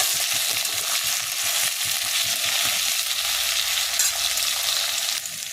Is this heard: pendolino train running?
no